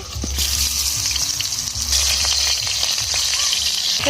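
Hilsa fish head frying in hot oil in a wok, a steady loud sizzle and bubbling hiss running throughout with a low rumble underneath.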